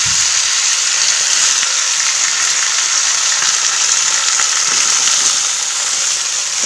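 Mixed vegetables fry in a pan with a steady, loud, close sizzle that holds level and continuous throughout, with no talking.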